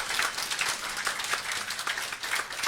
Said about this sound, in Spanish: Denle las palmas a Él.